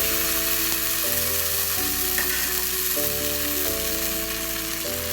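Steady hiss and sizzle of soya and raw banana kababs frying in oil in a pan, a constant close crackle with faint background music tones underneath.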